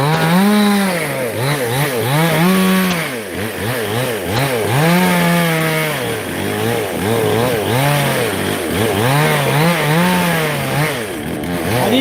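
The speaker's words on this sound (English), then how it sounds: "this is how we slice wood, but I think this chainsaw is way too small" Small chainsaw cutting through wood, its engine rising and dipping in repeated bogging cycles as the bar bites, loud and near for the whole stretch with no talk.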